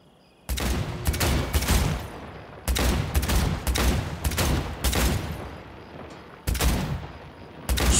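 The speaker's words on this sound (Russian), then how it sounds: "Я ж стреляю по бутылкам." Gunshots from Cyberpunk 2077 fire at bottles in loud bursts of rapid shots, four clusters separated by brief pauses, close and sharp with no talking.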